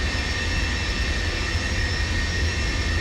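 The jet engines of an Avro Vulcan bomber in a flight simulator game give a steady, loud roar with a deep rumble and high whining tones, continuous and without talk.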